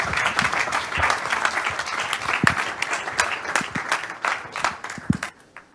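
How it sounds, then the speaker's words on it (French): Applause from a conference audience at a cybersecurity data summit, brisk and steady with a few sharper nearby claps, gradually thinning out toward the end. "je pense qu'on peut l'applaudir"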